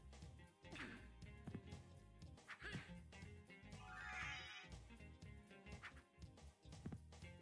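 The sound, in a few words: dog barking in video game Dracula X Ultimate Mod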